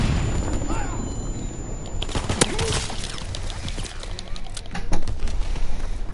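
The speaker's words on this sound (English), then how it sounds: "Dropping Fritz X bomb" A Fritz X bomb exploding in a Call of Duty game: heavy booms and blasts crack through a busy battlefield mix of gunfire, with a strong impact near the end and voices shouting underneath.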